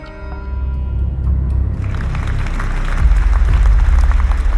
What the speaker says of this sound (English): I don't normally play claps for us, but I have to clap because I'm surprised we're actually back.